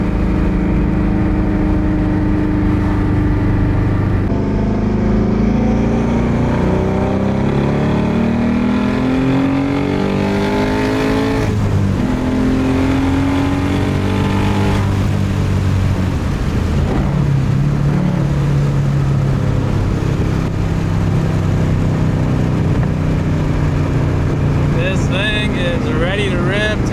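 A twin-turbo Ford Mustang Boss 302 V8 revs hard up and down close by. The loud engine tone rises and falls in repeated sweeps, with rough crackling pops mixed into the roar throughout.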